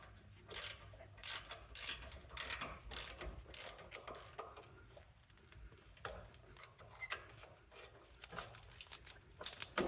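Ratchet loosening 15mm bolts and 14mm nuts on an old exhaust coupler, close sharp bursts of rapid clicking in a regular series of strokes, then quieter scattered handling noises.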